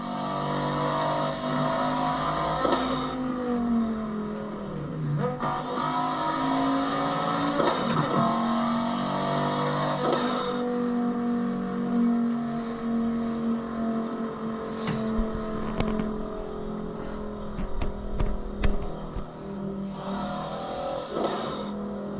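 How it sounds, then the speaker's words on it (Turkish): A steady engine drone rises and falls in pitch over a long stretch, moderately loud, with a few faint clicks and no speech. "Araba sesi geliyor mu size motor sesi?"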